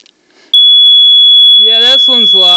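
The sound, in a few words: Simplex smoke alarm sounding during home test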